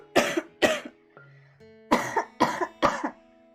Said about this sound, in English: I'm gonna have a proper cough again